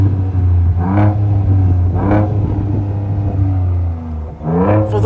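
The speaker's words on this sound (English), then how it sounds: "let's listen to the exhaust." A 2023 Ford Ranger Raptor exhaust in Baja mode snaps through three sharp, rising revs over a deep, steady idle rumble, heard loud and close.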